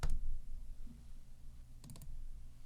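Sharp computer clicks in a quiet room while operating audio mastering software, one click near the start and a quick cluster of three or four clicks near the end, close and fairly soft.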